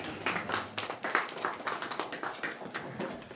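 An audience at an Urdu poetry mushaira claps steadily, a moderate, even patter of many hands rising and falling in small waves, slightly distant and with no voices over it.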